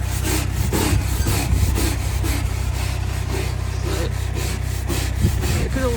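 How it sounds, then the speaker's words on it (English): Someone scrubs orange pine furniture coated in oven cleaner spray, making brisk, rhythmic back-and-forth rubbing strokes, loud and close over a low steady background hum. "Give it a good old scrubbing with this."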